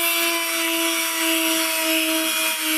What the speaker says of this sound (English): Light pressure, holding glass underwater.